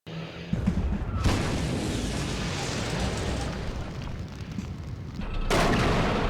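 AML-90 Lynx French recon vehicle firing in WARNO, heavy booming blasts that merge into a sustained rumbling roar of battle, loud and continuous, with a fresh burst near the end.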